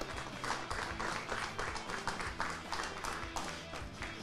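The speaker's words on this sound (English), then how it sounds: "please give the players a round of applause" An audience at the final of a pool world championship applauds the players, a brisk, dense burst of clapping sustained for a few seconds at moderate loudness with no voices over it.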